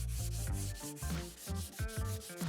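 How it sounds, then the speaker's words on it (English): Back-and-forth rubbing of 320-grit sandpaper wrapped on a sanding block over wood boards, close and rhythmic, with strokes repeating about every half second. "I got some 320 grit wrapped around the sanding block. So now I'm gonna sand these boards"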